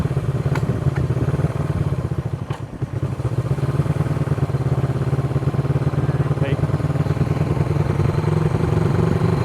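A vintage Honda CB360 motorcycle engine runs steadily throughout a ride, a loud, close, continuous low rumble with a brief dip partway through, and faint talking sits beneath it.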